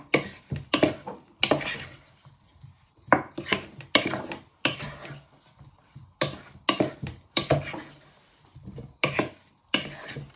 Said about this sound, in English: give this a good toss in. So they get a nice coating